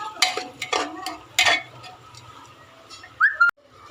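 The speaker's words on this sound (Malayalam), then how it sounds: "എന്നിട്ട് നന്നായി വഴറ്റിയെടുക്കുക." Beef curry masala with tomato and garlic paste is stirred and sautéed in a pan, giving a few short scraping bursts over a soft sizzle, with a brief whistle-like tone near the end.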